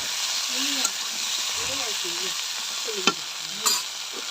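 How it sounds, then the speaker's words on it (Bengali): Malabar spinach stems and potato are stirred and fried in oil in a pan, with a continuous sizzle and hiss, a few sharp clinks of the spatula, and a faint voice underneath. "এবার দিয়ে দেবো পুঁই ডাঁটা, দিয়ে ভালোভাবে নাড়াতে থাকবো"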